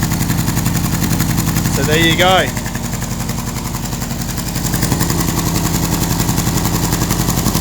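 A Ford Escort MK1 engine runs steadily after a fuel pump replacement, burning off dust, grime and oil. It keeps up a loud, even rumble throughout, and a person speaks briefly over it.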